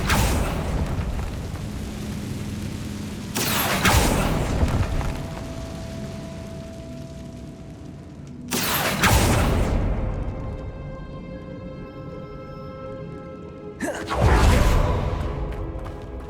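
Confringo blasting curses explode in Hogwarts Legacy, three loud whooshing booms spaced several seconds apart, each bursting sharply then fading over rumbling background effects.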